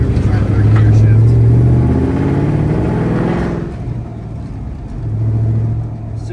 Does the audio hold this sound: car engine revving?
yes